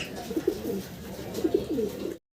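A pair of red Lahori pigeons coo nearby in two short, throaty bursts of rolling notes, close and clear.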